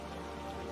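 Heavy rain falls as a dense, steady hiss, loud and unbroken through a brief stretch with no voices.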